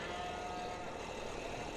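Sheep bleat on a farm in the Farming Simulator video game, a sustained nasal call in the first half over a steady, dense background of farmyard noise.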